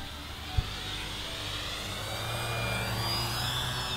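An RC T-28 Trojan warbird plane, 1100 mm span, flies past with a steady electric motor drone that rises and swells in pitch and loudness as it approaches, after one sharp click near the start.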